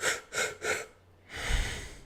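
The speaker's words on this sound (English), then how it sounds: "you do 4 quick inhales through the open mouth, right? You're using your diaphragm, and then you exhale through the nostrils" Three quick, sharp inhales through an open mouth, part of a diaphragm breathing exercise, are followed by a longer, softer exhale, close and clear with no talking.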